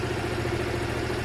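Honda Varadero 125 motorcycle engine idling steadily during carburettor tuning, a close, even low throb with a constant mechanical hum and no voices.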